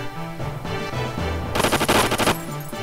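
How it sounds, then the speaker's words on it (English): A ship's main gun fires in the video game Xenogears, a quick rattling burst of rapid shots lasting under a second that cuts through steady game music. "Yeah, the main gun of the ship."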